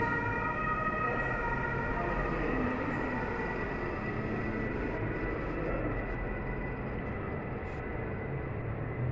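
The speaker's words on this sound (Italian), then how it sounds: "la sirena." A siren drones in steady sustained tones throughout, heard from a moderate distance over a constant background rumble.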